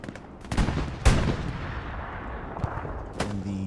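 Gunfire and artillery in the World War II shooter Hell Let Loose: several sharp, loud blasts with rolling echoes, scattered rifle cracks and a distant rumbling tail, with no talking.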